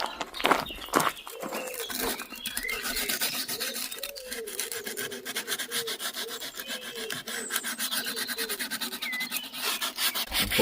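Hand sanding strips the finish from a beech wood chair, with repeated rhythmic rasping strokes of sandpaper on wood at close range, preceded by a few sharp knocks.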